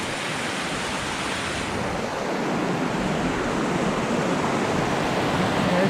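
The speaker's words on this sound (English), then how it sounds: "there's the waterfall," A waterfall along Fishin' Jimmy Trail on a hike toward the Kinsmans roars in a steady, loud broadband rush of falling water, continuous and close, with no voices.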